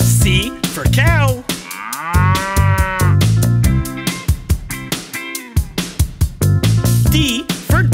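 Cow mooing amid a bouncy children's ABC song, long drawn-out bellowing moos rising and falling over steady music, loud and close.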